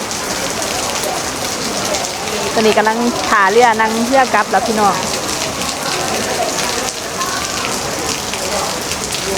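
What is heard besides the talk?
rain falling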